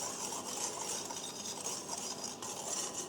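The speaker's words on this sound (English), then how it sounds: "So we're just going to mix everything together" Dry pancake ingredients for eggless whole wheat pancakes being stirred together in a bowl, a soft continuous scraping and rustling that stays even and fairly quiet, without voices.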